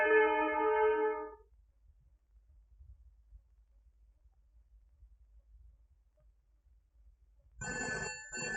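A telephone rings in a comedy scene, a near electronic ringtone burst at the start, then quiet room tone for several seconds, then a second ring pattern near the end with no talk.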